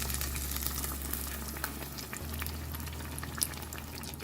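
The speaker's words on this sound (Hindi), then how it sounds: "अब इसे भी हम फ्राई करेंगे। ये देखें बैगन की है, इसे हम पलटते हैं।" Eggplant (brinjal) pakoras frying in hot oil, a steady bubbling sizzle with faint crackles running throughout, close and alone.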